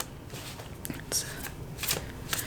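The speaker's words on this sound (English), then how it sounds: "just kind of shuffling until it feels right" Tarot cards being shuffled by hand, a series of quick riffling bursts close to the listener, repeated several times with short pauses between them.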